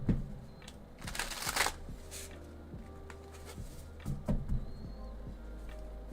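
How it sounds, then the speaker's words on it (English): A deck of tarot cards is shuffled in quick riffling bursts, with soft rustling and light taps in between, close and fairly quiet in a room. "I'm going to start shuffling"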